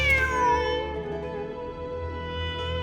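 Cat meowing in the video game Genshin Impact, a single drawn-out, clear meow that slowly fades, heard close and alone over a soft background hum.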